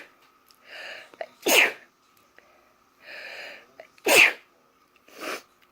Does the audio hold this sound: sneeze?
yes